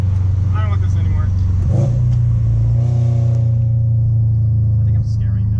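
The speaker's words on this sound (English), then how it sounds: "Frightened from the angry rumbly grumblies." Subaru STI engine rumbling while driving, a deep, steady close-up drone with a surge partway through, with people talking over it.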